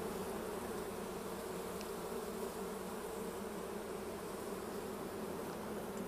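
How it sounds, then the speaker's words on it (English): Honey bees swarming around an open hive during frame inspection, a dense, steady buzzing drone filling the whole stretch, moderately faint with no talk. "Another good frame. Plenty of bees. Yeah, a lot of bees."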